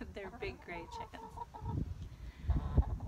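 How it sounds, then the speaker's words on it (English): Big gray backyard hens cluck and murmur nearby in short bursts, with some low rustling and a few louder thumps. "They're big gray chickens."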